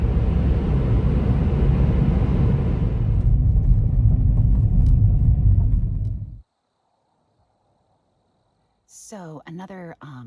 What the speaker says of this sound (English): So another vehicle just pulled in